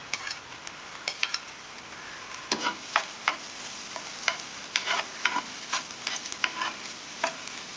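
Garlic sizzles in hot oil in a pan, a soft, low frying crackle under irregular clinks and scrapes of a spoon stirring against the pan.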